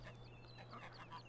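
Geese in the Farming Simulator 15 video game honk and cluck in a continuous, faint flock chatter over a steady low hum.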